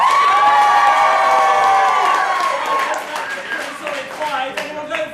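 A live audience at a student improv comedy show in Nottingham breaks into loud, sustained cheering and shouting that gradually fades into scattered whoops and claps, with no speech.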